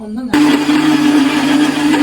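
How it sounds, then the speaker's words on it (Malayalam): A mixer grinder whirs loudly, blending milk cream with plain water to make homemade ghee. The motor starts abruptly after a brief quiet moment and then runs as a steady, close, high-pitched hum to the end. "എന്നിട്ട് മിക്സിയിലിട്ടൊന്ന് അടിക്കുക"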